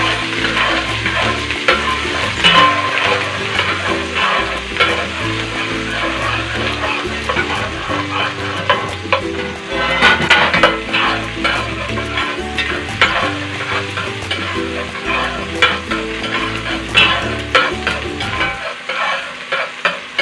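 Onion sautéing in olive oil in a pan, a steady loud sizzle with stirring scrapes running throughout under a rhythmic backing layer, cutting off near the end.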